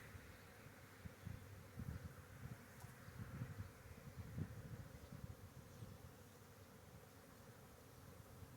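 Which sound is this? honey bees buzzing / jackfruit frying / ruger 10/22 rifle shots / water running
honey bees buzzing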